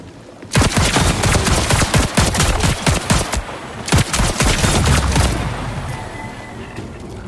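A Volt weapon firing in the video game Marathon: loud, rapid automatic bursts of crisp shots, a long volley, a short pause, then a second burst fading into a lingering electric tail.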